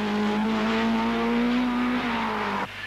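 A Vauxhall Chevette rally car, driven by Terry Cavey at the 1980 Manx Rally, holds a loud sustained engine note that climbs slightly in pitch, then cuts off abruptly near the end.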